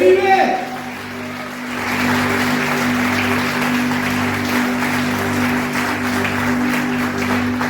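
A church congregation applauds in a sustained, even wash of clapping that follows a brief opening spoken line, with a low steady hum running underneath throughout.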